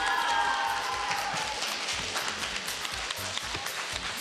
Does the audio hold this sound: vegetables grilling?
no